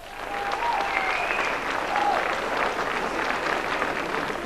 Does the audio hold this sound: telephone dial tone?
no